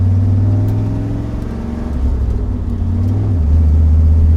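A C5 Corvette's engine hums and revs as the car pulls away, with a loud, steady low drone that dips and rises in pitch as the revs change and the clutch engages.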